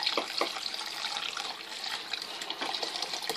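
Tap water running steadily onto a foundation brush to wet it, a close splashing hiss with a few brief spatters as the bristles pass under the stream.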